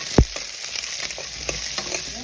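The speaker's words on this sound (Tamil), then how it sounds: "ஒரு 2 நிமிஷம் கழிச்சு சின்ன வெங்காயம், பெரிய வெங்காயத்தை போட்டு வதக்கிங்கோ." Small and large onions sizzle in hot oil in a pan with green chillies, a steady close frying hiss with a sharp clatter at the start and light stirring scrapes throughout.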